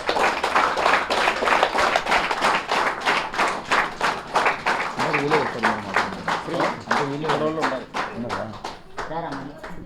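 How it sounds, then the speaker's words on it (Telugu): An audience at a Khammam meditation gathering claps to welcome a visiting team: steady rhythmic clapping in unison, loud and close, with voices speaking and calling over the beats throughout. "అందరికీ గట్టిగా క్లాప్స్ కొడదాం"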